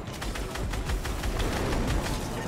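Rapid gunfire in Fortnite, with fast regular shots in a steady stream, fairly faint and with no speech over it.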